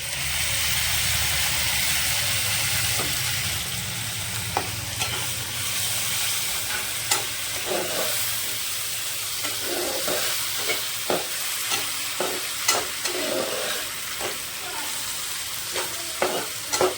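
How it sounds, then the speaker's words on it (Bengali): Tomato paste sautéing in a pan, a continuous close sizzle broken by repeated scraping stir strokes throughout. "ভালোভাবে এটা কষতে থাকি।"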